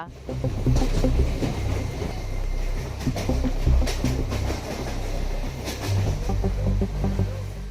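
A train rumbles loudly and continuously across a rail bridge, with rhythmic clattering over the tracks and a heavy low roar throughout.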